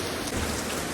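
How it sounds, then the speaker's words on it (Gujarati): Heavy rain pouring down outside a home, a dense, steady, loud hiss of drops beating on surfaces with no talking. "વરસાદ વધ્યો ભાઈ"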